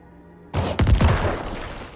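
A Corpse Explosion skill from a Necromancer in the Diablo IV open beta erupts after near silence into loud, booming bursts, several blasts rolling together within a second and then a sustained crackling rumble.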